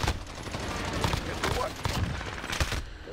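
Rapid bursts of gunfire fill a battle royale video game match, with repeated sharp shots and volleys overlapping at moderate loudness amid game sound effects.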